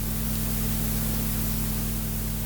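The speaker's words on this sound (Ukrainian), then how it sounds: "Фон від двигуна та шум підсилювача" A steady low electrical hum from a Sony Walkman WM-EX150 cassette player's motor, with layered harmonics, sits under constant broadband amplifier hiss, unchanging throughout.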